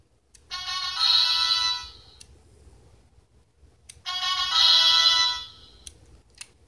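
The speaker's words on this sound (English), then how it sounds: "Turn on, and you get a little trumpet noise and a bright yellow LED." A Kamen Rider Gaim DX Sengoku Driver toy belt plays a short electronic trumpet fanfare twice, each burst bright and tinny for about a second and a half, separated by a quiet pause with small clicks.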